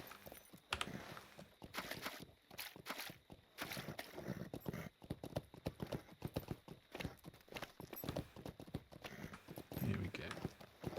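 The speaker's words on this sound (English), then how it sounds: "If I can get on a Shire horse and call it Sam, I will do." Rhythmic hoof clip-clop of a Shire horse in the online game Lord of the Rings Online, steady and close throughout under game ambience and intermittent speech.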